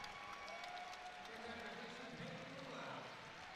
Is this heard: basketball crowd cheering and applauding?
yes